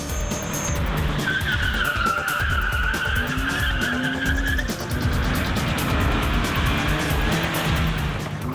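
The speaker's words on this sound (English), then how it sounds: "step 2 is just to drop the clutch, get on the throttle, and exit the corner" A car drifts through a J-turn on the e-brake, its tires squealing loudly in long sliding wails over a steady engine roar, with no talk.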